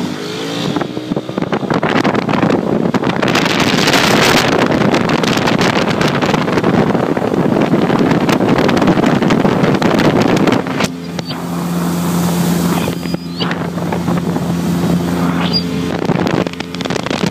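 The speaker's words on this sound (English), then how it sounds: "We'll go ahead and send it to full throttle." Skeeter bass boat outboard pushed from a crawl to full throttle, a loud steady roar buffeted by wind, then easing to a lower, smoother drone with a faint whine near the end.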